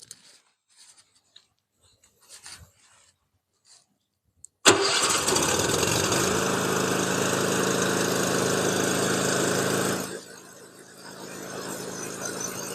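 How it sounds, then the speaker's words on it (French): Engine of a Grizzly 900F remote-controlled tracked robot brush cutter starting: after a few quiet clicks, it fires abruptly and settles into a loud, steady running roar, dipping briefly near the end. "on va démarrer la machine"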